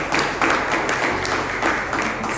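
An audience claps at a speech, a brisk, continuous patter of hands with sharp individual claps rising out of a busy, moderately loud wash.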